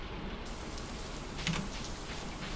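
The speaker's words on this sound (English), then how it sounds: "Oh, rain." Steady rain falls in Stardew Valley, a soft continuous patter of game ambience running the whole time at an even, moderate level with a few faint brighter drops.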